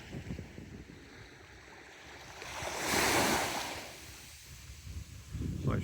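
Sea waves wash onto Bournemouth beach on a stormy, rainy day, with a continuous rush of surf that swells to a loud breaking crash midway, then eases back into a softer wash.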